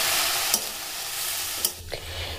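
A spoon scrapes and stirs cauliflower stuffing for parathas in a hot pan, a soft sizzle beneath a few sharp clacks of utensil against metal, close and brief.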